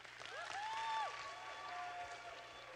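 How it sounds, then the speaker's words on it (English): Audience applause at the Hult Prize 2023 Taipei summit finals, a soft, distant patter of many hands under faint whistling, sliding electronic tones in the hall. "Let's give them another round of applause,"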